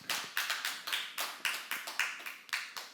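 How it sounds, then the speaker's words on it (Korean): A church congregation at a Korean seminary claps hands in a quick run of about a dozen sharp, fairly close claps, each decaying briefly, with no talk over them. "믿음 있는 사람만 박수 한번 쳐보시기 바랍니다."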